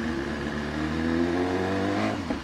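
A BMW S1000RR motorcycle engine runs steadily at raised revs in one riding mode, a loud, continuous engine tone close by with no talk.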